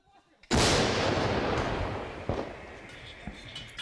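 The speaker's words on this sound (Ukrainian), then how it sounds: "Снаряд летить у бік Торецька." An artillery gun fires a shell toward Toretsk in wartime Ukraine, one sudden huge blast close by that rolls into a long booming decay, with faint thuds afterward.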